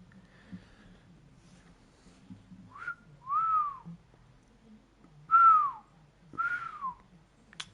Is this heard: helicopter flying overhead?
no